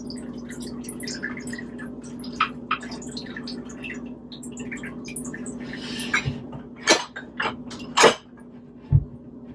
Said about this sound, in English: to just allow it to drip for a bit, just to get out the remaining cold brew